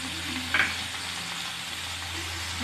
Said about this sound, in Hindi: जिंजर गार्लिक भी अच्छे से भून गया है अब मैं इसमें ये कटा हुआ एक टमाटर डाल रही हूँ